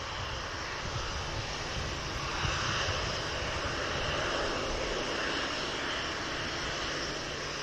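Boeing Dreamliner spooling up for its takeoff roll on runway 23 left at Manchester Airport, a steady broadband engine roar heard from a distance, even and sustained without voices.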